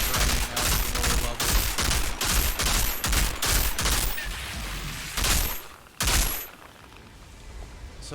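Sustained rapid automatic gunfire from a video game boss fight, loud bursts of machine-gun fire with brief pauses and explosive hits, firing at a boss's bubble weak point, continuing for several seconds before tapering off.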